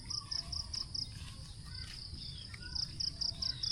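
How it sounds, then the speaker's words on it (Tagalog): Crickets chirp at a hillside campsite in Arayat, Pampanga, sharp repeated pulsing trills in bursts, fairly close against a soft low night background, no talking. "Ayun, kuliglig."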